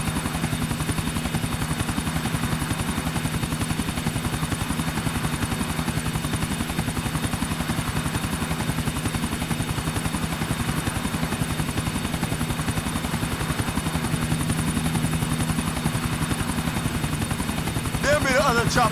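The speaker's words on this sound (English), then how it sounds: "There be the other chopper." Helicopter in the video game Grand Theft Auto IV, a steady, loud rotor chop with a rhythmic low thump that runs throughout, with game effects rising near the end.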